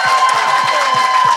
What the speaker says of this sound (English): Can I have a big round of applause for Dr.